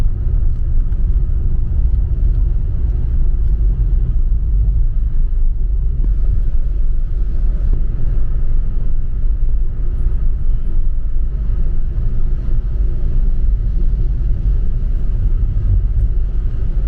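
A car drives along a mountain road on the way to Leh in Ladakh, giving a loud, steady, low road rumble and engine drone heard from inside the vehicle, with no voices.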